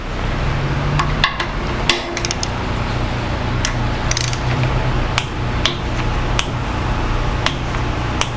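Torque wrench clicking and ratcheting on the head bolts of an air compressor pump, a steady run of sharp metallic ticks and clacks close up, with no talking.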